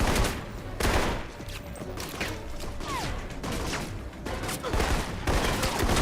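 Rapid gunfire from a shootout in the video game Alpha Protocol, a dense, continuous spray of shots with crashes and clatter layered throughout, loud and close with brief voice fragments mixed in.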